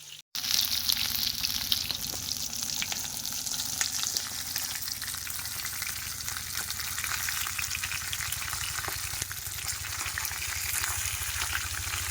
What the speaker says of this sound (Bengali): মাছ ভাজা কিন্তু রেডি হয়ে গেছে